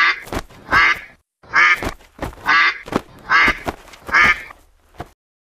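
Cartoon duck quacking loudly in a rapid series of honking calls, grouped in bursts with short pauses, close and alone without talk, from an animated Vietnamese folk tale.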